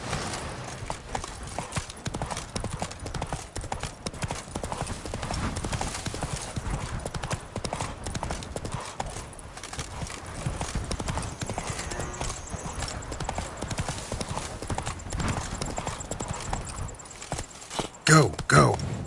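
Roach, a horse in The Witcher 3 Blood and Wine, gallops in steady rapid hoofbeats under continuous game music and ambience, with a voice speaking over it and a louder burst near the end.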